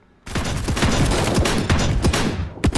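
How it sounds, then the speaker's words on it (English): Shotgun blasts from a BB gun warfare video game crack out in a fast, dense series of loud booming shots, one after another with little pause, ending with a couple of separate late bangs. "Oh, it's a shotgun."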